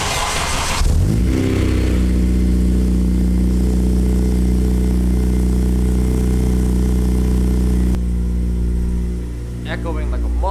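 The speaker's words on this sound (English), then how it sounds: "let me give you guys a cold start in the garage." A Honda Civic Si fires up from cold inside a garage, a short cranking burst settling into a loud, steady, echoing idle that drops lower near the end as a voice speaks briefly.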